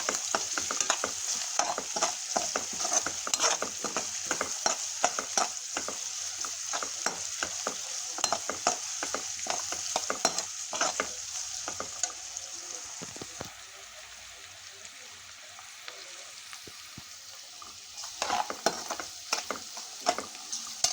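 Onions frying in a pan with red chillies, a close crackling sizzle broken by frequent stirring scrapes and taps, easing to a quieter hiss before the clatter resumes near the end.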